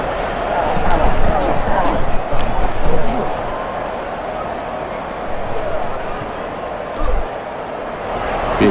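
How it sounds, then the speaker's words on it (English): Rugby stadium crowd at an England versus South Africa match: a broad, continuous roar that swells and settles after a strong run, heard under a commentator's steady talk. "Ben Morgan gets the crowd on their feet with that run"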